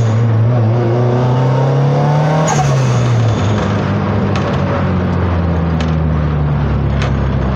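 A turbocharged Honda Civic Estilo engine revs and roars up close, pitch rising then dipping as it's lightly throttled, with faint whooshes and a steady loud drone throughout.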